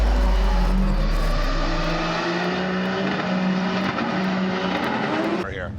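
Drift cars at a motorsport championship event in Greinbach, Austria racing into the first corner, engines roaring and revving loudly with tire squeal, under commentary.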